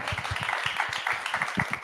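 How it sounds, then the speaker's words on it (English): An audience claps in a brief, fairly quiet round of applause at an arts salon talk, with quick, closely spaced claps. "Can we give a hand clap to Ebony Magazine?"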